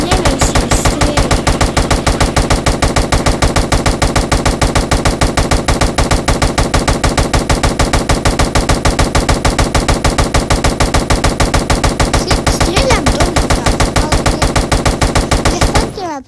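Sustained automatic gunfire in a Roblox SCP video game, a loud, rapid, evenly spaced stream of shots hammering on without a break for about sixteen seconds before cutting off.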